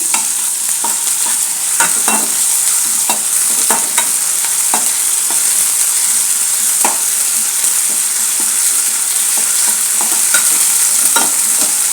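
Ginger-garlic paste frying hard in a pan, a loud constant hiss of hot oil with frequent spoon taps and scrapes as it is stirred.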